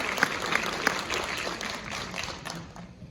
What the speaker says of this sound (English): Let's give these young artists another round of applause, please.